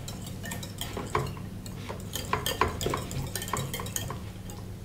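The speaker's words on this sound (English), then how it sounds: "I put in the salt and pepper already, now we're gonna continue mixing." Beaten egg mixture for an omelette, seasoned with salt and pepper, being whisked in a bowl with a utensil, giving repeated light clinks and scraping taps at an irregular rhythm, fairly quiet and close.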